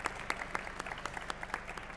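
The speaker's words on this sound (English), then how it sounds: "Round of applause." Faint, thin applause from a small audience at a business talk on productivity, scattered claps pattering briefly and evenly at a distance.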